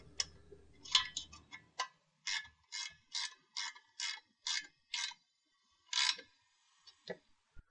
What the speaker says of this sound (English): Now I'm ready to just snug up my set screws.